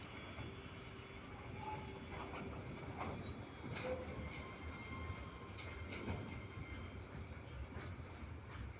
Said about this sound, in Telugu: అప్లైన్లో గూడ్స్ ట్రైను బలాస్ట్రా వైపు అప్లైన్లో వెళ్తుంది